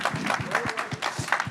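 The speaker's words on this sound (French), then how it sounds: "On applaudit." Brief burst of audience applause at a women-in-Web3 event, dense clapping mixed with a few voices and murmurs, close and fairly loud for under two seconds.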